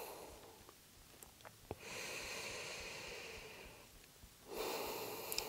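Deep yoga breathing: a long, soft, airy inhale swells and holds, then fades, followed by another strong breath near the end, close and quiet with a few small clicks and no talk.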